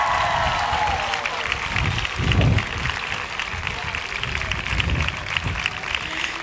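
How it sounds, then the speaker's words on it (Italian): Applause from a live audience in Cagliari, a broad wash of clapping running through the whole stretch under a speaking voice, with a swell near the middle. "L'applauso grande del pubblico di Cagliari per Paola Maugeri."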